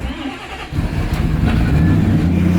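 An engine cranks briefly, then catches and settles into a loud, rough, rumbling idle close by.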